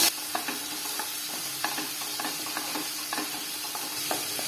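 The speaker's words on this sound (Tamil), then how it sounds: "வெங்காயத்தை ஒரு 2-3 நிமிஷம் வதக்கிக்கலாங்க" Chopped onions and curry leaves sauté in a pan, a steady soft sizzle broken by repeated scraping strokes of a stirring spoon at a regular rhythm, close and alone.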